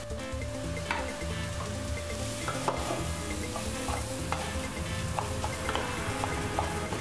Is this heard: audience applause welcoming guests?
no